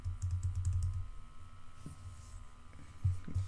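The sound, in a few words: typing a password on a computer keyboard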